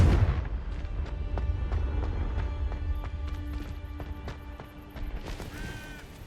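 A Confringo blast in Hogwarts Legacy hits with a strong low boom at the start, followed by a long rumbling tail with scattered impacts and tonal game effects layered over it.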